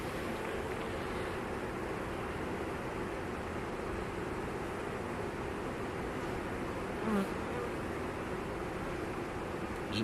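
Dense, steady buzzing of many honeybees in a colony where one bee carries pollen, a close continuous drone with no talk.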